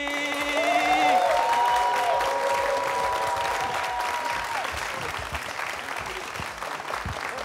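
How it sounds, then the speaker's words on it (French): A TV studio audience on the variety show Télé S'amuz applauds as a guest is welcomed on stage, with steady, loud clapping and some cheering filling the whole stretch. Melodic tones and a voice sound over the clapping near the start. "On peut l'applaudir"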